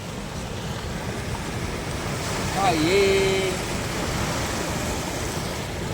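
Waves on the overfull Nathsagar reservoir at Paithan churn in a constant rushing wash with wind noise, while a brief whistled or sung rising tone and a short spoken exclamation cut in mid-clip.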